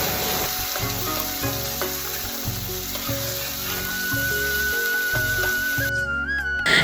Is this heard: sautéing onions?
yes